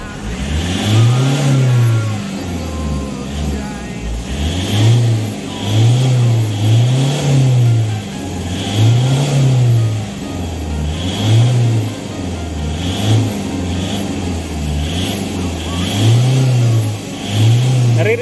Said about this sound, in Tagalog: ngayon yung tunog ng makina ni sir oh